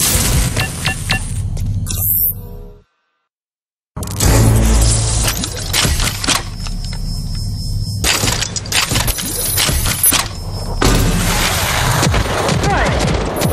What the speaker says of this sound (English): the smart rocket launcher can lock onto a target and fire multiple small homing rockets.